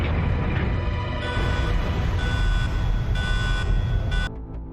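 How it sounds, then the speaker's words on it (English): A steady, droning self-destruct alarm tone repeats over heavy rumbling in Resident Evil 2, loud and continuous before cutting off abruptly near the end. "an alarm goes off indicating a self-destruct sequence has now been activated"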